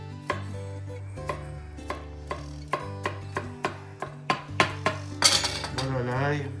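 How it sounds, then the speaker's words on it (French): A knife chops garlic finely on a board for gremolata, a brisk run of sharp, evenly spaced taps that speeds up and grows louder toward the end, close and clear with no talk over it. "J'ai l'ail comme ça qu'on coupe finement."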